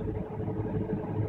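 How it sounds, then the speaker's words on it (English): Low, steady engine drone of an autonomous tractor pulling a grain cart during canola harvest, easing down in speed over a brief stretch with a constant mid-pitched rumble. "So the tractor slowed down just there."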